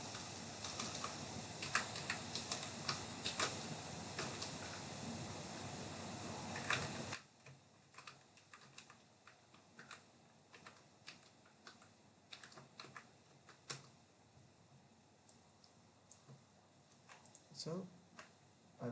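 Computer keyboard typing code, rapid irregular key clicks close by, dense and loud at first over a background hiss, then sparser scattered taps, with a voice speaking in places.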